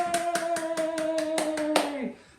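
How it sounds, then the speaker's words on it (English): Children in a classroom clap in a quick, even rhythm of about nine claps, close and clear, while a sustained voiced tone rings underneath before the clapping stops abruptly. "Give yourselves a big clap"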